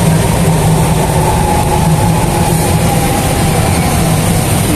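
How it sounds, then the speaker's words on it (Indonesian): A Jakarta MRT train passes nearby as a loud, steady rumble and rush that holds level for the whole stretch, with no talking heard. "Oh, ada MRT itu."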